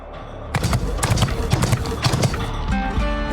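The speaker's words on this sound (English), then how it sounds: "Sounds like horse hooves." Mechanical horse hooves gallop in the NIKKE video game, a run of loud, close clip-clop hits over a busy game score, with a brief neigh-like tone at the end.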